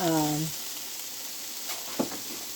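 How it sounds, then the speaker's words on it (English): Butter sizzles steadily in a hot pan on a home stovetop, a constant bright frying hiss with a brief voice at the start and a light scrape of stirring near the end. "I add butter, and we're going to stir that up also."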